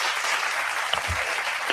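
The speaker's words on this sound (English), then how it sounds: "So I do got to give you a hand clap for that." Hand clapping rings out in a radio show studio, a brief, dense burst of applause for a guest with a couple of short thumps partway through.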